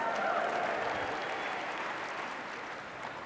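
A conference audience in a large hall cheers and applauds continuously, a dense, steady wash of clapping and raised voices that holds at an even level throughout without pause.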